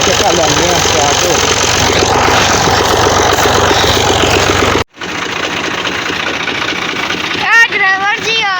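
A tractor is push-started and its engine runs in a loud, steady chugging drone, with a sharp cut partway through and people talking over it.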